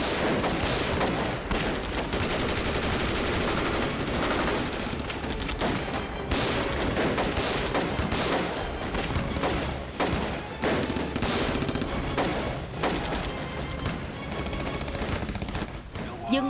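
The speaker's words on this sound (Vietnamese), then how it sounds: "Các anh em ở đối diện, đừng bắn nữa" Dense battlefield gunfire from a war film, with rifle shots and machine-gun bursts overlapping into constant loud crackling and thuds, continuous for the whole stretch with little letup.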